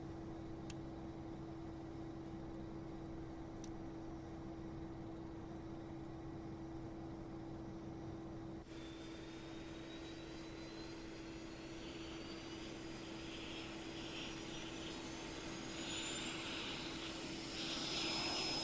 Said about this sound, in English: Let's get the APU fired up, start getting the cabin cooled down.